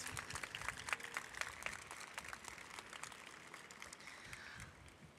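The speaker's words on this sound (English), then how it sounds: "Give them a round of applause, please." Applause from an audience, a dense wash of many hands clapping steadily, moderately loud, gradually thinning toward the end.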